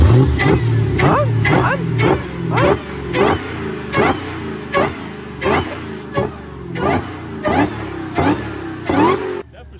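Dodge Hellcat V8 with a ported supercharger snout revving in sport mode, a loud run of about a dozen sharp rhythmic blips close by, ending abruptly.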